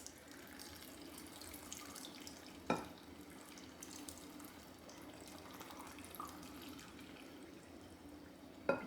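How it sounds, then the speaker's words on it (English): Water runs from a tap as it is poured into glass jars packed with chopped apples, a soft, steady trickle with a couple of sharp clinks of glass, faint and close. "let's see how much water this is going to take"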